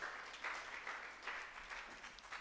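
Faint, distant applause for secondary school students at a debate competition, a steady patter of many hands clapping with no talk over it.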